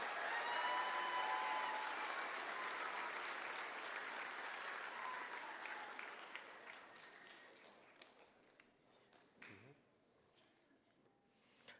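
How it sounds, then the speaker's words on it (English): Applause from a school audience at a fifth grade moving-up ceremony, a loud, dense round of clapping that swells at the start and then thins out, ending in a few scattered claps. "a thank you and a round of applause"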